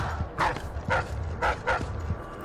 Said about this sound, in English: Who's barking?